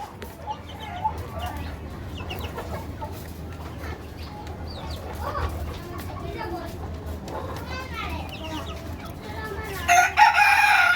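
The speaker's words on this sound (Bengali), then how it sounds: "এটা মুরগি" Aseel-type Laiza and Hazha chickens cluck and murmur close by in a busy coop, with children's voices and chatter mixed in and a burst of louder squawking at the end.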